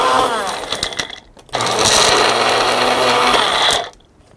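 Blender whirring as it mixes basil and pine nuts for pesto, a loud steady grinding roar for about two seconds after a brief earlier pulse, then cutting off.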